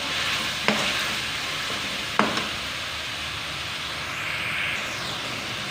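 Vegetables frying in a pan for veg and egg fried rice make a steady, fairly loud sizzle, broken by two sharp clicks of a utensil against the pan.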